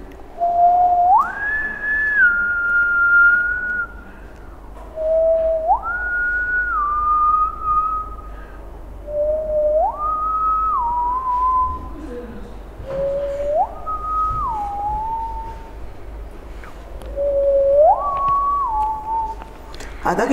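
A slow, eerie whistled tune repeats five times, each phrase rising then sliding down, steady and clear over a faint background hum.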